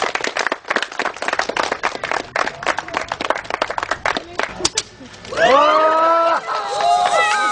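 Crowd applause and clapping at an awards ceremony for a mountain race in Szklarska Poręba, with scattered claps and cheering for about five seconds, then people talking and calling out over the fading noise.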